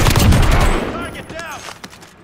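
Rapid bursts of automatic gunfire crack loudly up close in Call of Duty: Warzone, dense volleys fading into scattered echoing shots with faint radio-style chatter underneath.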